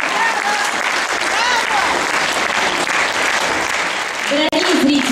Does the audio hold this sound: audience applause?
yes